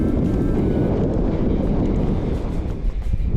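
A strong storm wind roars across a high mountain pass in the Pamirs, buffeting the microphone with a loud, constant, low rumble and no talking.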